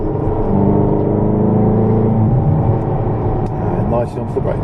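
Supercar engine at Rockingham circuit pulling hard under acceleration, a loud, close droning roar with rising harmonics that gives way to a softer rumble, while a voice talks over it.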